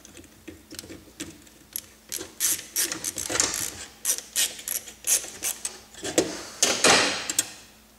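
A screw is driven back in on a Honda CR-V door lock actuator, giving a series of close, irregular ratcheting clicks and scraping turns, quiet but distinct over several seconds.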